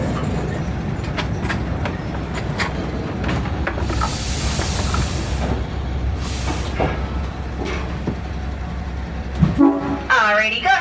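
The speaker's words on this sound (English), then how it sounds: "Do not stand up until you hear the short train whistle." Short whistle from a Hawaiian Railway passenger train at rest, a brief tonal blast near the end over a steady hiss and rumble of the train, with people talking.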